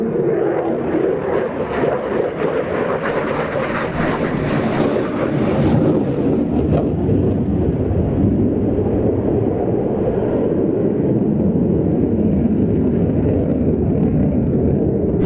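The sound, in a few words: Slovak Air Force fighter jet flying at airshow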